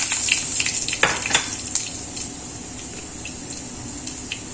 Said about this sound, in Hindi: तेल मैंने गरम कर लिया है, इसमें डाल रही हूँ राई